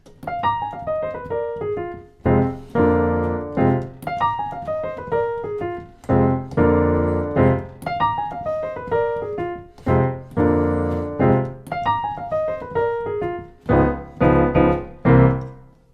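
A piano plays a descending bluesy 1960s R&B lick in F, then stops for punchy block turnaround chords, repeating the pattern several times alone and up close.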